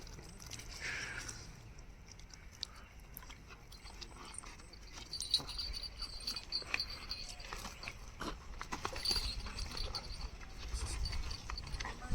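Hooves clop irregularly on the ground as bullocks walk, faint and somewhat distant, with soft rustling and scattered knocks around them.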